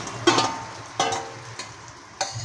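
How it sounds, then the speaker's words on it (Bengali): Marinated rohu fish sizzles in hot oil with black cumin seeds in a wok, with a few distinct clatters of stirring over the steady frying hiss. "দিয়ে সুন্দর করে নাড়াচাড়া করে মাছটাকে এর মধ্যে আমরা দিয়ে দেবো।"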